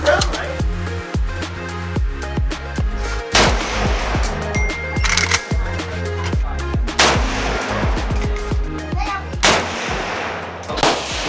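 Rapid gunfire rings out at a shooting range at the Cu Chi Tunnels in Vietnam. Loud, close, repeated shots come in quick bursts and single cracks, with several weapons firing almost continuously throughout.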